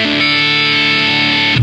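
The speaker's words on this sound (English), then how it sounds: "You end up with distortion on 100." A Gibson 335 electric guitar played through a Roland GP-8 processor with distortion set to 100 sounds one loud, heavily saturated sustained chord that rings steadily for about a second and a half.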